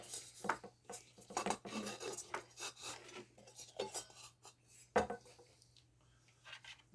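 A metal part is screwed onto a mid-century desk lamp by hand, giving faint, close metallic scrapes, clinks and rubbing in irregular bursts with one sharper knock.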